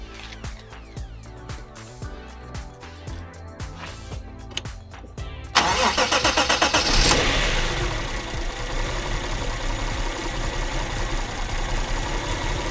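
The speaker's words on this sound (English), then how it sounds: "hit the key, and you'll see it start, even without the map sensor connected" A Toyota IS200 engine running on a standalone Haltech ECU cranks and fires after some clicking and handling noises, then settles into a loud, slightly rough idle close by.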